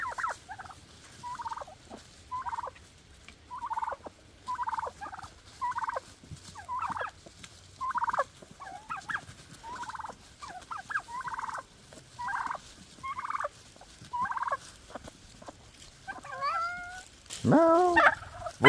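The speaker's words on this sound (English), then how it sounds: "Hello turkeys. Hello chickens." Turkeys and chickens in a farmyard keep up a run of short, evenly spaced calls, ending in a louder burst of gobbling close by.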